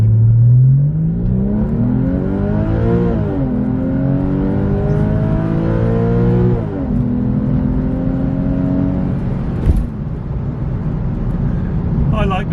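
A Porsche 996 with an aftermarket valved exhaust pulls away at full throttle, its engine note climbing through gears with distinct shift dips, loud and close, while someone talks over it.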